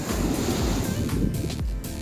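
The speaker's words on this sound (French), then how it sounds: "Écoutez le doux bruit des vagues." Ocean waves and surf wash continuously against a Colombian coast, a steady loud rumble with gusty wind noise buffeting the microphone throughout.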